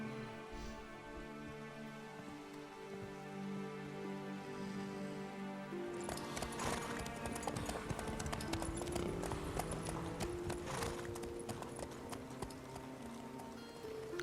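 In the Witcher 3 video game, Geralt rides his horse Roach, and rhythmic hoofbeat clip-clops start partway through and continue steadily under a layer of game music.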